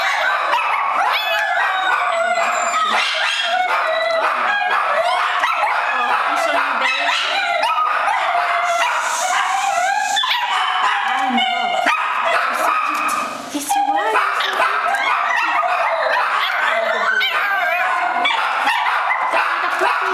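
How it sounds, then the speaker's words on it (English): A puppy yips, barks and whimpers repeatedly and close by, its high calls continuous across the clip while people speak over it. "Look at that puppy."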